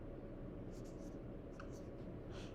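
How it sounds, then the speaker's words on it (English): A marker writing a sentence on a whiteboard, making a few short, faint squeaks and scratches in quick separate strokes over a low background hum. "And you can write sentences on the board."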